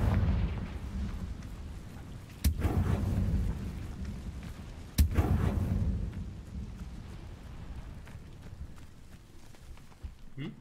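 The Confringo explosive spell going off in the Hogwarts Legacy video game. Two loud, booming blasts, about two and a half seconds apart, each rumble away into a low roar that fades slowly.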